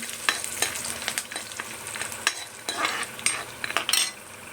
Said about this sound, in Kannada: ಇವಾಗ ಇದಕ್ಕೆ ನಾನು ಕರ್ಬೇವಿನ ಸೊಪ್ಪು ಎರಡೇ ಸ್ಪೂನ್ ಹಾಕ್ಕೊಳ್ತಾ ಇದ್ದೀನಿ ಇದನ್ನು ಕೂಡ ಒಂದು ಒಂದು ನಿಮಿಷ ಹೊತ್ತು ಚೆನ್ನಾಗಿ ಬಾಡಿಸ್ಕೊಳ್ತೀನಿ